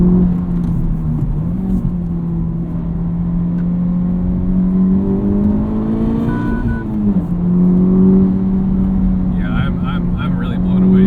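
A 2023 Honda Civic Type R being driven, its engine holding a steady loud drone with rising and falling pitch as it revs, close and continuous throughout.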